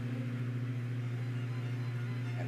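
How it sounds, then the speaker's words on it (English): A microwave oven hums steadily while cooking, a constant low electrical drone with no break and no talk. "all you gotta do is just put it in the microwave and cook it."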